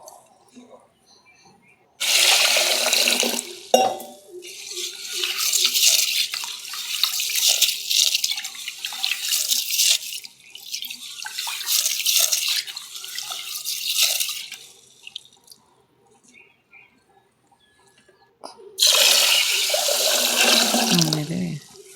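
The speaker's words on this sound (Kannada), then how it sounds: "ಕ್ಲೀನಾಗಿ ತೊಳ್ಕೊಂಡು ನೋಡಿ ತೊಳೆಕತ್ತೀನಿ ನಾನು." Horse gram being washed in water, with repeated bursts of sloshing, rubbing and pouring close by, separated by short quiet pauses.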